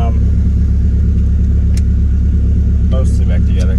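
A Nissan Hardbody pickup's engine idles steadily in neutral after a clutch replacement, a loud, close, constant rumble throughout with a few brief clicks and clanks over it.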